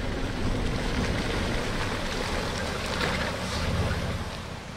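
A 4WD vehicle in second gear low range pushes through a small high-country creek, a loud, sustained wash of splashing water and engine rumble with wind buffeting the microphone.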